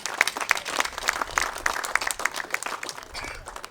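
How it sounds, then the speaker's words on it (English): Audience applause on the Oregon Capitol steps during an outdoor bill-signing ceremony, a dense, steady patter of many hands clapping for nearly four seconds with no voices over it. "So let's give him a round of applause"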